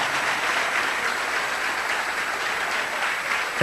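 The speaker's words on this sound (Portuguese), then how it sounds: "Aplauda, irmão. Acompanha a cearense ali, aplauda." A church congregation applauds at a Brazilian evangelical service, a steady dense wash of clapping that holds evenly throughout, with no talking over it.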